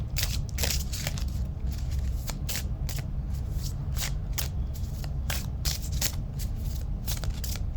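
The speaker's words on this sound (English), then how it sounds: "see my crappy shuffle skills coming out." Continuous riffling and snapping of tarot cards being shuffled up close, quick irregular flicks over a low background hum.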